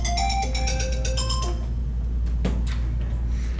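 A phone ringtone plays a bright repeating melodic chime for about a second and a half, then stops, followed by a few light clicks and handling noises over a steady low hum.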